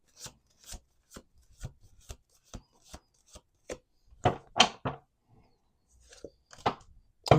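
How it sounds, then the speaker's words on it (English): Tarot cards being shuffled by hand, a quick series of crisp riffling slaps and rubs in a steady rhythm, close and clear, with a few louder bursts toward the end and no talking. "Last shuffle."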